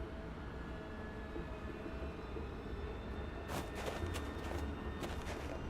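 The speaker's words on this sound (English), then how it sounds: "At least not when there's a train going across them." In the video game Alpha Protocol, a train rolls across the tracks with a continuous low rumble and hiss, while a run of sharp clacks and bursts near the end marks wheels crossing rail joints. No one speaks.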